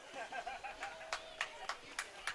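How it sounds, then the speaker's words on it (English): Sparse, faint clapping for officials at a US Masters Swimming national meet, a handful of evenly spaced claps in a large natatorium with light chatter and chuckles. "Let's give them a great big round of applause."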